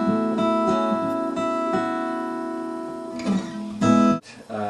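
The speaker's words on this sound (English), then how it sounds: "back down here on tracks 2 and 3 is the acoustic guitar" Isolated acoustic guitar track from a multitrack mix, strummed chords ringing with sustained harmonics and a few sharper strums near the end, close and clear with no talk.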